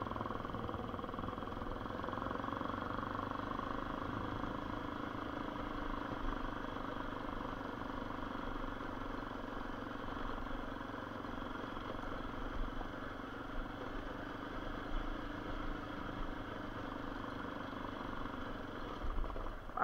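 A Honda Bros 150 motorcycle engine hums steadily on a dirt road for the whole stretch, a constant mid-level drone with occasional faint bumps and rattles.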